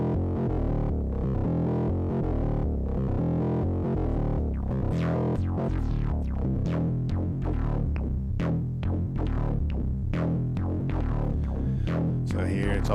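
Throbbing, resonant synth bass line from an Arduino sound source through a low-pass filter sweeping open and closed, steady and loud, with plucky rising notes flickering over a droning low end.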